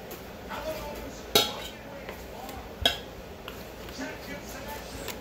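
Chocolate being scraped, the scraper snagging on staples: two sharp metallic clinks stand out among faint scraping and light clattering, with a voice heard in places.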